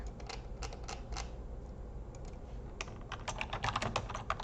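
Rapid typing on a computer keyboard, a dense run of close, crisp key clicks with a brief lull midway, then a quicker, busier burst toward the end.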